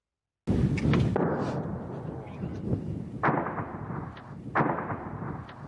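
Gunfire and shelling near the Donetsk airport: a heavy blast opens, followed by a rumbling tail and several further sharp reports and thuds spaced a second or so apart, loud and close with no speech.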